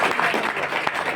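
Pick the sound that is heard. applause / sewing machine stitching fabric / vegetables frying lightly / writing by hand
applause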